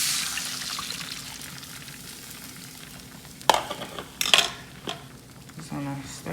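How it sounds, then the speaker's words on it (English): Eggs hit an oil-coated pan over moderate heat, with a soft fry under a few sharp clanks and scrapes of a utensil stirring against the pan. "let my oil coat the pan and add the eggs in."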